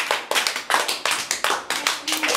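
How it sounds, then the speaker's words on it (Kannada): Children in a school group clap together in a quick, even rhythm, roughly nine sharp claps close by, each one crisp and separate. "ಎಲ್ಲ ಚಪ್ಪಾಳೆ ತಟ್ಟಿ."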